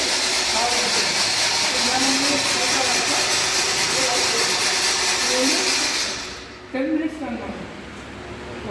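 An automatic coconut de-shelling machine runs with a loud, dense mechanical whir and hiss, while a voice talks over it. The noise drops away near the end.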